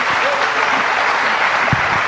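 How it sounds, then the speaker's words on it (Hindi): Audience applause welcoming a speaker onto the stage at a business event, a steady dense wash of clapping that holds evenly for the whole stretch with no voices over it. "तो जोरदार तालियों से स्वागत करते हैं मेरे ब्यूटीफुल वाइफ सीता।"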